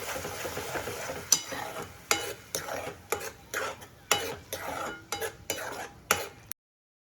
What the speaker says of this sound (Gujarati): આમાં ટોમેટોની પ્યુરે નાખવાની. પછી બરાબર હલાવી દેવાનું.